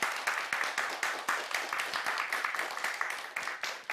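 Applause from an audience at a family-values themed evening show in Gomel, with a steady run of sharp, fairly quiet hand claps that keep an even pace all the way through.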